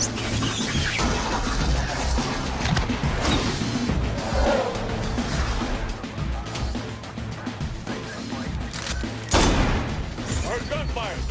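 Bursts of gunfire in the video game Saints Row The Third, mixed with vehicle noise, crashes and whooshes, including a loud blast near the end, with talk running under the action.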